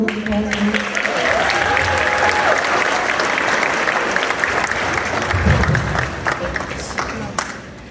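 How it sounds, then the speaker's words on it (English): A crowd at an eighth grade middle school graduation ceremony gives a sustained round of applause, dense clapping throughout with voices mixed in beneath it, easing off near the end. "Can you give her another round of applause, please?"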